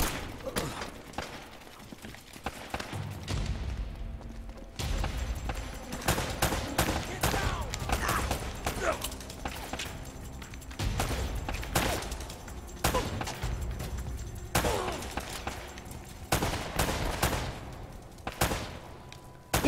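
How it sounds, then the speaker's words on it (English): Rapid bursts of gunfire in the action video game Uncharted, dense volleys and single shots in quick succession, loud and continuous throughout, with occasional voices and game sounds mixed in. "shot him in the leg"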